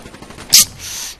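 A single sharp gunshot crack from Call of Duty Black Ops 3, bright and brief, over a low murmur of game ambience.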